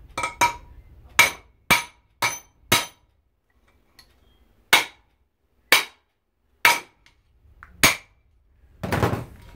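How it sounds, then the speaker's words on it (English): Sharp, ringing hammer blows knock parts off the aluminum plate of an electric lawnmower being torn down, about ten separate metallic strikes in an uneven rhythm, close and loud, then a brief scraping rustle. "The hammer's going to do all that."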